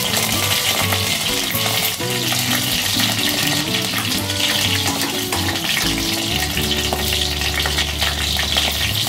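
Curry leaves and green chillies with fenugreek seeds sizzle and crackle loudly in hot oil for a fish curry, a dense continuous frying hiss with occasional stirring, no voices.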